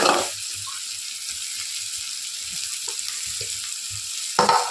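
Curry leaves sizzle as they are fried in a pan, a steady soft crackle with small pops and stirring clatter, close and continuous, with a louder burst at the start and end.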